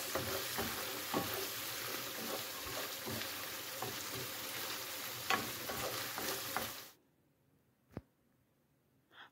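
Sardines sautéed in a pan for breakfast sizzle and crackle steadily with occasional scraping stirs, close and continuous for about seven seconds before cutting to near silence with a couple of faint knocks.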